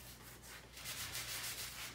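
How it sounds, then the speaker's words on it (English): A 220-grit sanding block rubs over a wooden banister in steady strokes, producing a continuous soft scratchy hiss that stays close and fairly even. "I'm using 220 grit sanding block"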